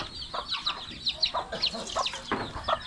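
Chickens cluck and chatter in short, busy bursts close by as they wait for water to be poured, with several birds calling over one another.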